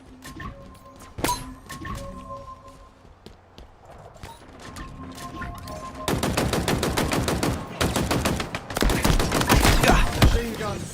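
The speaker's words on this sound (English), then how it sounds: "Machine guns suit you, Spartan." Automatic machine gun fire in the shooter Halo Infinite, sparse single shots at first, then dense rapid bursts of rattling gunfire growing louder in the second half over in-game ambience.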